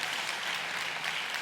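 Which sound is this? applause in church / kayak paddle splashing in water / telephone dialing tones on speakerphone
applause in church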